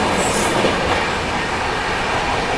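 Mangla Lakshadweep Express rolls through Rani Kamlapati station, a loud steady rumble of wheels on track with a brief high squeal near the start.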